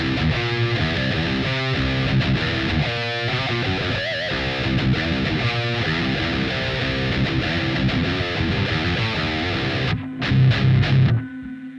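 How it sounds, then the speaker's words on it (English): Heavily distorted electric guitar from an Ibanez RG through a Mesa Boogie Dual Rectifier amp model on a Line 6 POD HD 500X chugs out loud palm-muted riffs and sustained chords for the whole stretch, ending on a brief final burst. "On my 500X, I'm gonna load up a Mesa Boogie dual rectifier amp model."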